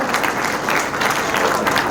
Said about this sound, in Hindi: सब लोग ताली बजाओ